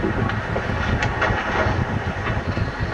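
A 19th-century steam locomotive train, seized in Kingston during the Great Locomotive Chase, runs steadily on rails with a dense, continuous rumble and faint rhythmic clatter, close and loud with no voices.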